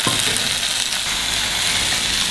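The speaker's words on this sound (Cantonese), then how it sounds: "先兜熟個芥蘭。" Chinese kale is stir-fried in a wok, a loud, continuous close-up sizzle with a faint scrape of tossing at the start.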